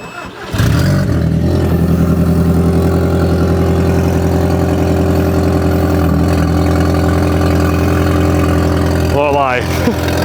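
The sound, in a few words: Audi TT car engine starting and idling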